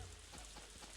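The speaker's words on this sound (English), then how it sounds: "it's raining, so I don't have to water anything" Soft, steady rain pattering in a farming video game, faint and continuous for a brief moment.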